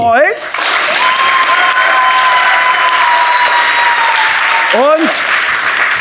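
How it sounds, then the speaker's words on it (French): Loud studio audience applause for contestants on a children's game show, continuous dense clapping with music tones and a whooshing swoop at the start and end. "On les applaudit."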